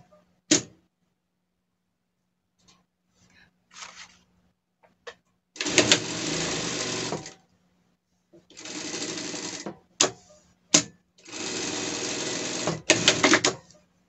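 A sewing machine stitches a seam on a pet doll dress, running in three loud sustained bursts with short clicks and pauses between them, and someone talks quietly in the gaps.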